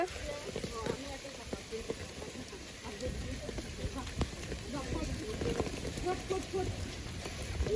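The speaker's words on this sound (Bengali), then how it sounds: "বৃষ্টি হচ্ছে আপনারা দেখুন" Steady torrential rain pours down in a constant, dense patter, with voices talking over it throughout.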